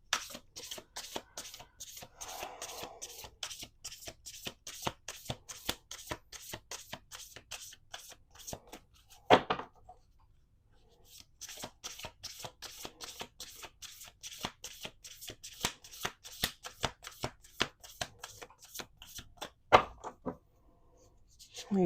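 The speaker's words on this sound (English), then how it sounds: "Okay, 2 more shuffles." A deck of oracle cards is shuffled by hand up close, with rapid rhythmic riffling and slapping in two long bursts separated by a brief quiet pause.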